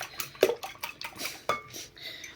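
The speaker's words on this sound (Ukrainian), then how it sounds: "Тепер беремо, збиваємо наші яєчки не до піни високої, просто ми їх збиваємо до однорідної маси" Eggs whisked by hand in a bowl for Easter paska dough, giving quick clinking taps of whisk or fork against the bowl, close and fairly quiet.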